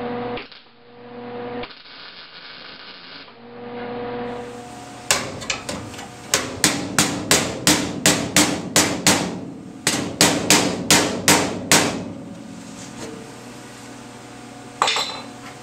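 Rapid, evenly spaced metallic hammer strikes on sheet metal during car door pillar replacement ring out close by, a steady series of bright clanging blows after a few seconds of low hum.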